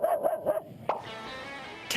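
A dog at a beach dog show barks angrily, several sharp close barks in quick succession, then a pause and another loud bark, with a brief noise burst at the end.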